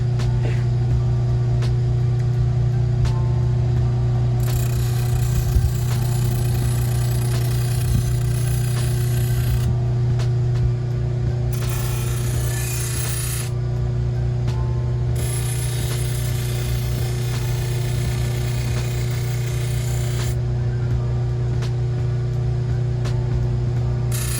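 Serrated bread knife stropped on a spinning wheel loaded with white compound: a constant motor hum, with bursts of bright hissing grinding each time the blade meets the wheel, steady and close.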